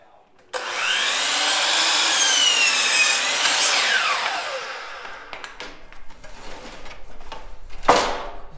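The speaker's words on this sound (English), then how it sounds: "So I just set my miter saw up on 33 degrees" A miter saw set to 33 degrees cuts wood for a porch rafter: a loud whining blade spins up, bites through the board for several seconds, then winds down with clattering handling noises.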